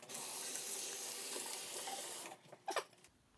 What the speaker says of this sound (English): but first let's wash our hands.